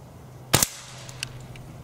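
A single sharp crack from a Beeman Underlever .177 PCP air rifle fired offhand outdoors, close and loud, followed by faint ticks and a quiet background.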